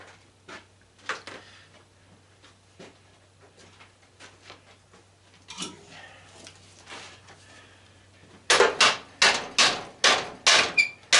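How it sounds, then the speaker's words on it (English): Hammer blows on metal while an old belt/disk sander is scrapped for copper and cast aluminum, starting as scattered light taps and clanks, then ending in a run of loud, rapid, evenly spaced strikes close by. "I'm going to have to start using pry bars and hammers"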